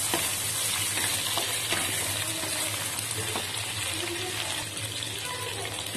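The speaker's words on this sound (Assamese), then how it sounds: "এতিয়া মই ইয়াৰ শুকান মাছকেইটা ফ্ৰাই কৰি ল'ম" Dried bamla fish frying in hot oil alongside taro stems, a continuous dense sizzle with stirring scrapes and spatter close by, steady throughout.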